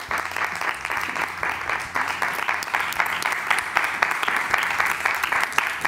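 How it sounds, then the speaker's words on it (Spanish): Studio audience applause, many hands clapping in an even, sustained burst that holds steady for several seconds with no voices over it. "ahora le damos un aplauso inmenso a Patricia Navarro."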